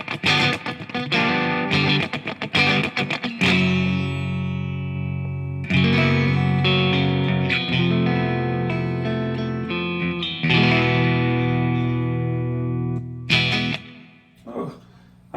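A 1996 Fender Stratocaster Ultra electric guitar played through an always-on screamer overdrive pedal, sustained distorted chords and melodic lines ringing loudly with a few quick strums and pauses.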